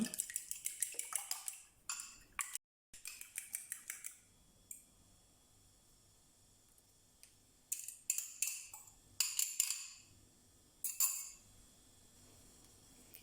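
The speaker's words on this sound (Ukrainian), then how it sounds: "Збиваємо вилочкою два яйця" Quick rhythmic clinking of a fork beating eggs in a bowl, in short bursts with pauses between them, close by and fairly quiet.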